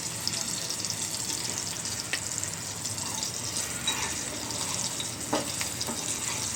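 Stuffed green chillies fry in a pan with a constant close sizzle, and faint scrapes and small clicks come through as they are stirred.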